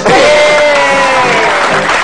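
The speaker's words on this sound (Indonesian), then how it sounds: "Tepuk tangan." A TV studio audience in an Indonesian talk show bursts into loud, sustained applause and cheering, a dense crowd roar filling the whole moment.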